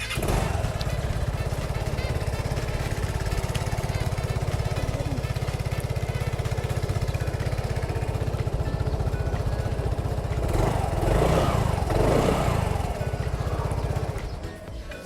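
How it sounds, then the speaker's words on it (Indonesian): A Vespa Sprint S150 i-Get ABS scooter engine starts and runs with a steady, rapid putter, idling evenly for the whole stretch, rising briefly near the end before easing off. "Terus kalau kita coba starter dan kita dengerin suara mesinnya."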